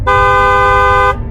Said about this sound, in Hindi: तभी बस वाले अपने बस का हॉर्न बजाता है